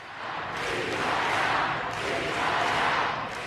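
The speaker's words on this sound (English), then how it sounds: "rush hour at Liverpool Street Station and train announcements were drowned out by chants from a crowd of pro-Palestine protesters" A crowd of pro-Palestine protesters chanting in unison at Liverpool Street Station during rush hour, a loud, dense wash of massed voices swelling in rhythmic waves, filling the echoing concourse.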